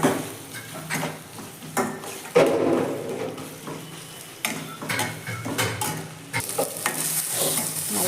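Ingredients for egg fried rice are stir-fried in a pan, with continuous close scraping and tossing over a steady sizzle and occasional utensil clinks.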